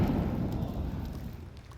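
A grenade explosion in a Counter-Strike esports match on the Anubis map leaves a low rumbling boom that decays over a couple of seconds, heavy and muffled.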